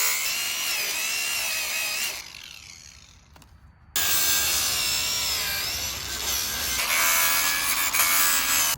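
An 18-volt cordless Sawzall reciprocating saw cuts loudly during a pop-up drain install, a steady buzzing rasp that drops away briefly in the middle before resuming and running to the end.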